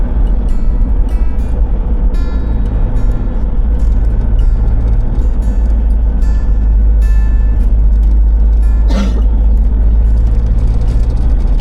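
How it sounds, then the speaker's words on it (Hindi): A car climbs a hilly highway in fourth gear toward Mount Abu, a steady loud engine and road rumble holding throughout, with a brief whoosh of passing traffic near the end. "4th गियर में ये गाड़ी ऊपर जा रही है हमारी।"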